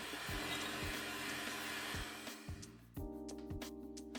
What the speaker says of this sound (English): using a hand or stand mixer on a medium speed, mix that until it's nice and smooth